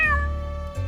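A single short cat meow, clear and close, falling slightly in pitch.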